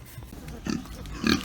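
A native pig on a farm grunts twice in short nasal oinks, close and clear against quiet background noise.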